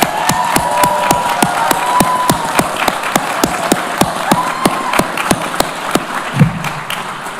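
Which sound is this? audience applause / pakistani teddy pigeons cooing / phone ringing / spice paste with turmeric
audience applause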